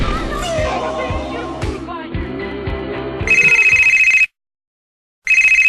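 A telephone rings with a loud electronic trill in two bursts separated by a short silence, cutting in after a stretch of background music with a steady beat.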